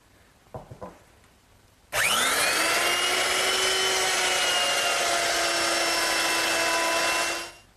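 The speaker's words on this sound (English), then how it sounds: "I want to do is remove most of the material in the area of the joint while my straight bit is still in the router" Woodworking router fitted with a straight bit spinning up and cutting wood at a joint, a loud sustained high-pitched whine with a rough cutting texture, ending as the motor winds down.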